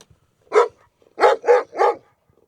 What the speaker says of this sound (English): My dog is barking at us religiously